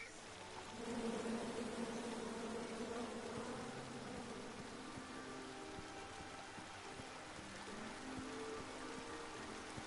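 Bees from the King's Quest game drone in a continuous buzz that hangs over a rainy, hissing background, steady and moderately close, with no talk.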